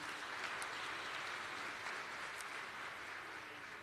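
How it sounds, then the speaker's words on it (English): An audience at the Sustainability & Renewable Energy Forum SAREF 4.0 gives dense, sustained applause from many hands, a continuous wash of clapping that is faint in level and carries no speech. "Big round of applause, please"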